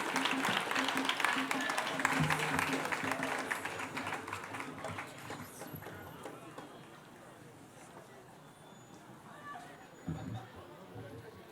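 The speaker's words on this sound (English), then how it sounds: "Please clap for her." Audience clapping at a university congregation ceremony, loud and dense at first, then thinning into scattered claps mixed with crowd chatter and murmuring, with voices rising near the end.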